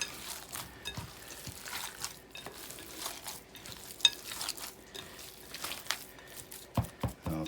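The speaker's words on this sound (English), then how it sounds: "And we'll mix it just a little bit more." Ingredients mixed in a bowl by hand in a garde manger kitchen: soft, irregular stirring and wet scraping strokes, quiet and close, with no talk.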